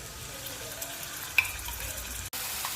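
Asafoetida, onion, turmeric and coriander paste frying in hot oil, a steady soft sizzle with faint crackles and one brief clink, continuous and close with no talking.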